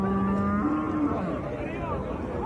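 A cow moos loudly at a busy livestock market, one long low call sliding in pitch, heard close with faint crowd bustle behind it.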